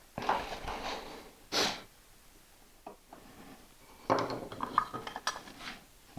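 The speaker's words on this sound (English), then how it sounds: "I'm going to drop out the vise" A vise is taken off a workshop workbench, giving a few scattered metallic clanks and knocks with quiet pauses between them, close by and fairly soft.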